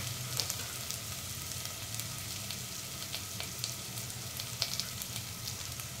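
Ginger garlic paste fries in a hot pan for a ridge gourd masala curry, a close, continuous oily sizzle with scattered small pops and crackles throughout.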